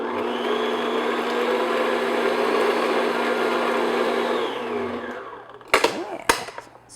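An electric mixer beats an egg into cake batter for frosted tea cakes, a loud steady motor whir that winds down near the end, followed by a few sharp knocks against the bowl.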